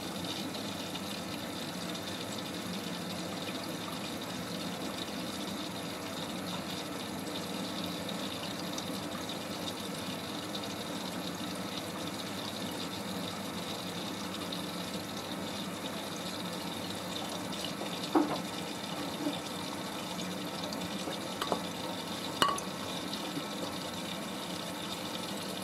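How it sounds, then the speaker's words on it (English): A Miele W562 Prestige Plus 6 washing machine filling with water for the first rinse of a bathrobe load gives a steady, faint hiss and gurgle of inflowing water with a low drone, plus a few small clicks near the end. "First rinse."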